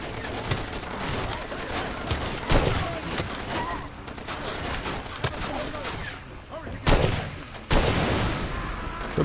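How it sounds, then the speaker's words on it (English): Rapid gunfire from a hard-to-control gun in the video game Far Cry 2, a dense continuous rattle of shots with a few sharper, louder bursts near the end, set in thick bush. "This gun's really hard to control."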